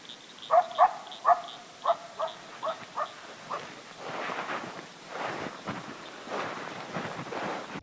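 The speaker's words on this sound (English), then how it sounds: "One of the coyotes kept calling from the shoreline." A coyote near a shoreline in Mason, Texas gives a series of sharp barks and yips, about eight evenly spaced calls, followed by quieter rustling and faint movement.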